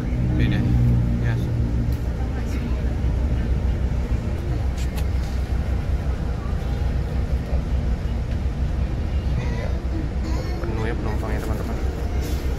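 Inside a large Rapi tronton coach bus on an Indonesian road, a steady loud engine drone and road rumble run throughout, with people talking faintly beneath it.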